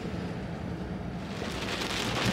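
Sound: rain falling

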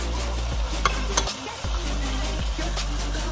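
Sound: vinegar added to pot of cooking pork pata

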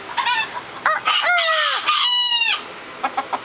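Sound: rooster crowing

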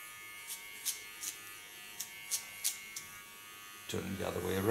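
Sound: small electric hair clipper cutting hair

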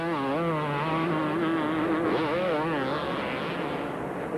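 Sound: supercross motorcycles racing, Carmichael on the triple jump

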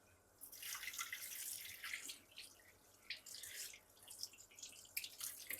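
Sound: water running from a tap into a bowl

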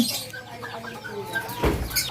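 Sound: chickens clucking

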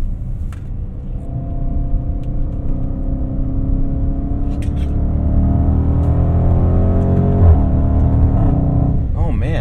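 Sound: Range Rover Velar SV Autobiography engine accelerating through a corner

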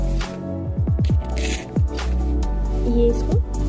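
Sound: soil and stones being filled into a flower pot

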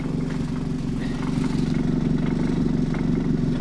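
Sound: cogenerator engine running unevenly

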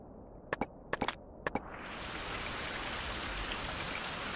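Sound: rain in Survival: Fountain of Youth video game

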